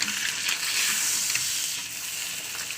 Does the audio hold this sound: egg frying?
yes